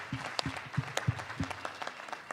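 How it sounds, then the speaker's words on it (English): A small live audience gives sparse, scattered applause: a handful of distinct, fairly close claps spaced unevenly across a couple of seconds rather than a full ovation. "give him a round of applause, please"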